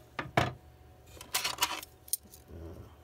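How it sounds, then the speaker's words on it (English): Metal measuring spoons, forks and other kitchen utensils clink and jangle together in short bright bursts, close and separated by brief quiet gaps. "a bunch of random spoons, a few random forks, one steak knife,"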